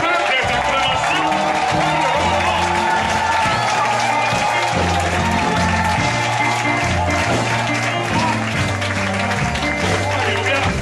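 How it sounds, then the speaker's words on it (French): A church congregation stands and applauds with steady clapping and cheering, while music with a bass line plays and voices rise throughout. "Donc c'est debout, par des acclamations."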